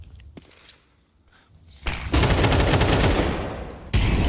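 Rapid automatic gunfire bursts out loud and sustained in a Counter-Strike esports match, after a quieter stretch with a few isolated clicks and thumps, ending with a sharp fresh burst.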